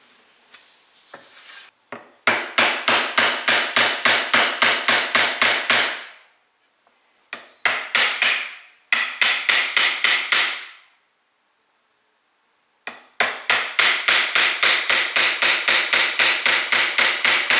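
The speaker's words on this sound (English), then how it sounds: "on that line I'm going to hammer in 2 razor blades" Rapid, regular hammer blows drive razor blades into wood, loud and close, in three bursts separated by brief pauses.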